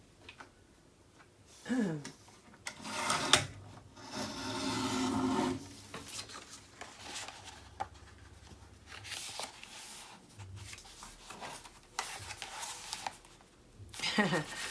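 Paper pocket edge on a mini album being trimmed a little at a time, heard as rasping, rubbing strokes in short bursts, close and moderately loud, alternating with quieter pauses.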